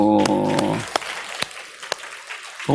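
In a church service, a short burst of congregational applause for the Sunday school teachers trails off into a few scattered claps and quiet, with a faint voice resuming at the very end.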